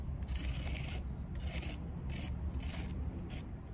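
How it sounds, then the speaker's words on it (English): A water-stained tegular ceiling tile being scraped with the back of a blade: five bursts of close, dry rasping scrapes in a steady rhythm over a low background hum. "I'll scrape it with the back of my blade"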